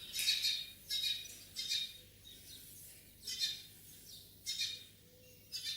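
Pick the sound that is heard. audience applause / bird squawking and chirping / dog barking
bird squawking and chirping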